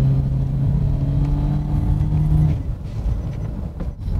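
A tuned Mazda Roadster with an Autoexe setup and quad exhaust outlets drones steadily at a sporty pitch, then the note drops and roughens as the engine eases off halfway through.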